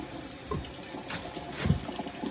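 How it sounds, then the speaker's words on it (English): Tap water runs steadily as turkey wing and smoked neck bones are rinsed under a faucet for collard greens, a soft continuous splashing with a brief louder gush near the end. "Just going to rinse them off."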